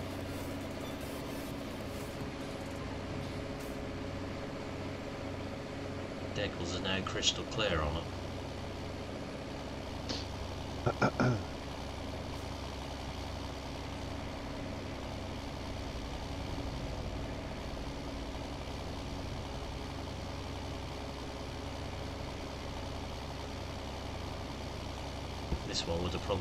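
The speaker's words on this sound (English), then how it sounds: "Ah, what's that tractor, is it?" An older tractor in a farming video game idles with a low, steady engine rumble throughout, a couple of brief clanks breaking in while people talk over it.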